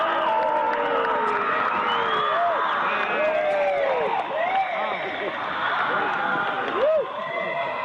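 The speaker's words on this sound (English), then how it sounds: "When that ceremony ends, they all start to cheer and yell." A large crowd cheers, whoops and yells loudly and without a break after the Cremation of Care ceremony, where an effigy is burned on an altar before a big owl statue, with shrill individual shouts standing out above the roar.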